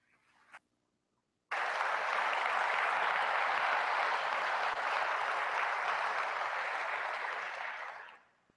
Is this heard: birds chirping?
no